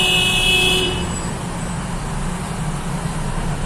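Cars and trucks jammed on a road with drivers cutting through on a shortcut: close engine rumble and steady traffic noise, with horn toots in the opening second before the scene settles into a continuous idling drone.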